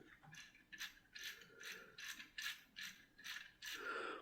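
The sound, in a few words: LEGO City 60466 bulldozer tracks turning gear-driven engine mechanism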